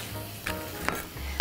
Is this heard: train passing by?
no